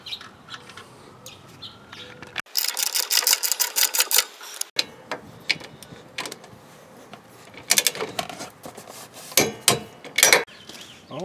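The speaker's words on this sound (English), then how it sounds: "Okay, I got those 4 torqued down." Lug nuts on a 3,500-pound RV trailer electric brake assembly being torqued down to 50 foot-pounds, giving close, loud bursts of ratcheting, clicking wrench noise in several separate runs with short pauses between.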